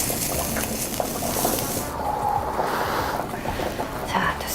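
Broth bubbles in a pot while meat, meant as filling for mullet fish dumplings, sizzles as it stir-fries in a pan, a steady close hiss and crackle that runs the whole time with brief shifts in texture.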